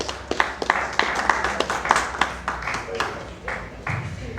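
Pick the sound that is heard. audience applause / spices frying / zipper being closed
audience applause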